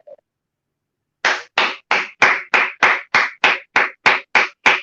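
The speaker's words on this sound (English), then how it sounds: "clap for me" An audience at a tenth anniversary event claps in a slow, even rhythm, about a dozen loud, distinct claps in a row after a brief moment of quiet.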